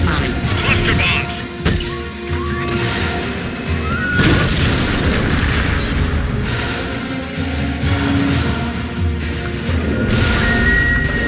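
Cluster bombs and S-mines go off in Metal Gear Solid Peace Walker, a loud series of booming blasts and crashes layered over mechanical clatter, with a big impact near four seconds and continuing rumbling bursts.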